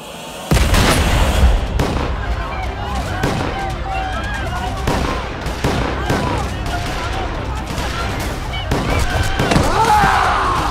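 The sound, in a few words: gunfire during an attack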